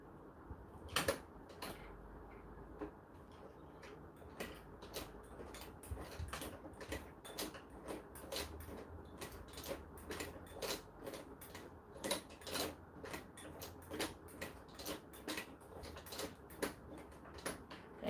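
A sewing needle strikes metal again and again while a shade sail is being sewn. The sharp ticks come in an uneven run over a low, quiet machine hum.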